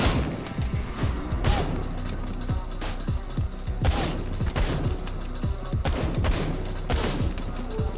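Rapid gunfire from a John Wick–style shooter game, loud and close, with sharp repeated shots in clustered bursts over a steady mechanical din.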